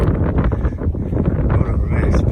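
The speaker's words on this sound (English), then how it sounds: "The wind is like 40, 50 mile an hour gust" Strong wind gusts of 40 to 50 mph buffet the microphone on the open bald summit of Max Patch on the Appalachian Trail, a loud continuous roar and rumble throughout.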